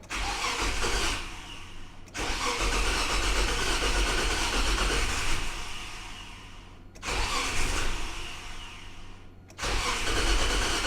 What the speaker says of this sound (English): keep cranking and see if it fires